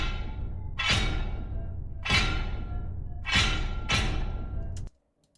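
Metal claw effect built from a ringing metal bowl layered with a gym barbell clank: four heavy metallic impacts at a steady interval, each with a bright ringing tail, then a sudden cut to silence.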